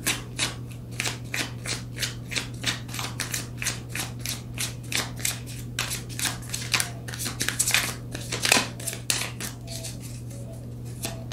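Tarot cards are shuffled and drawn, making a steady run of quick, close paper flicks and riffles that speed up toward the end, heard alone over a low constant hum.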